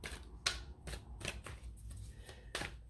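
Tarot cards being shuffled close by, a few distinct soft slaps and riffles against a quiet room background, no voices.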